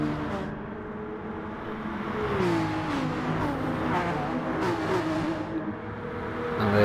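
A Peugeot race car in GT Sport passes with a rising, revving engine whine that swells and shifts pitch as it goes by, loud and close, with no voices.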